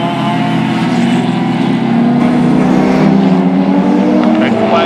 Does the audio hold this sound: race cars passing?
yes